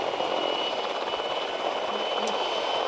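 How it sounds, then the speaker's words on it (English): A rescue helicopter starts up at a Freeride World Tour competition in the Fieberbrunn Kitzbüheler Alpen, giving a steady, continuous engine whine and rotor hum at moderate distance for the whole stretch. "there's the helicopter powering up"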